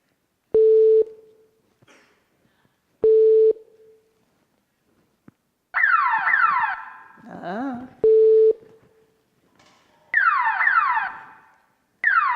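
Short steady beeps alternate with loud warbling siren bursts and a brief swooping tone, each separated by silence.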